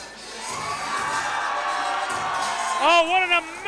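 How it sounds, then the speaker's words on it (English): A crowd at an XFC mixed martial arts event roars and cheers as a fighter walks out, a sustained wash of shouting with sharp whoops rising near the end. "Oh, what an amazing pop from the crowd here for Ryan Leavey."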